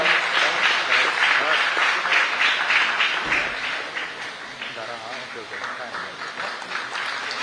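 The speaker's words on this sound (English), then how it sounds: "Let the claps be very loud" Audience at a market access expo in Goa applauding, dense continuous clapping that stays loud and then eases slightly, with a voice faintly over it.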